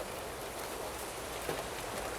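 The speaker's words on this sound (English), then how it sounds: "You can hear the subtle drops on the leaves." Rain in a video game falling on a car and on leaves, a steady, soft, even hiss of dense drops with no pauses, faint and continuous.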